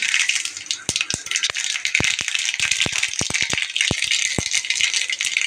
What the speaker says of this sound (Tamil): எண்ணெய் காஞ்சோடனே கடுகு